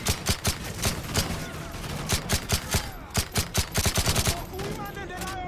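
Gunshots in Call of Duty: Modern Warfare 3, a long run of loud sharp cracks, single shots and quick bursts in an uneven rhythm, over a steady background rumble.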